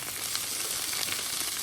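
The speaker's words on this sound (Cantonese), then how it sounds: "而家就攞去煎。" Radish cake studded with dried scallop and Chinese sausage pan-frying in a little oil, giving a steady, dense sizzle and crackle that holds close and even throughout with no talking.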